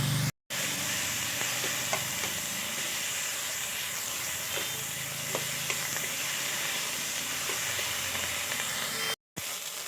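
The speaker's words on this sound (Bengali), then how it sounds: "এখন আমি আদা কাঁচা লঙ্কা বাটাটা দিয়ে কষিয়ে নেব" Tomato frying in a pan with ginger and green chili paste, a steady close sizzle and hiss with scattered small pops, running alone throughout.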